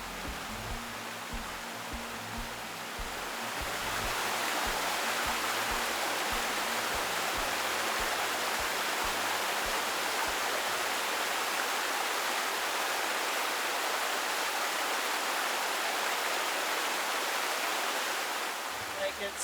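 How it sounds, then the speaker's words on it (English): Fountains in an Abu Dhabi palace garden give off a steady, close hiss of splashing and falling water, rising in level after a few seconds and then holding constant, with faint low rumbling from the surroundings. "there's several fountains"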